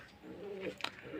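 Pigeons in a rooftop loft, including mated breeding pairs, coo softly in brief low bursts against faint background noise.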